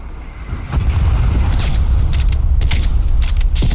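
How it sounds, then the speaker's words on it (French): Enemy artillery strike in the video game Call of Duty Black Ops Cold War: a loud sustained rumble of distant explosions and booms begins abruptly and continues throughout, with scattered sharp impacts on top. "Artillerie ennemie en approche."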